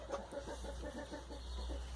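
Laying hens at a feed trough cluck in a soft, steady run of short calls, faint and somewhat distant over a low background hum.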